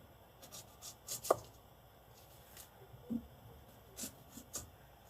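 A knife slices a small homegrown onion into slivers on a cutting board, giving a handful of sparse, quiet chopping taps spread irregularly with pauses between them.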